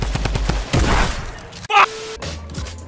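Shotgun blasts in Fortnite Season 9, a rapid run of sharp cracks followed by heavier booms and a brief shatter-like burst, loud and close, with game voices mixed in.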